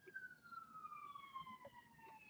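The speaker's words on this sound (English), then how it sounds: "can you hear that alarm outside?" An alarm siren wails outdoors, its steady falling tone carrying faintly through the room from a distance over low background noise.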